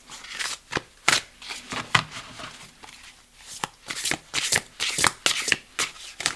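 A deck of oracle cards being shuffled by hand: a close, brisk run of papery slaps and riffles in an uneven rhythm, with no voices.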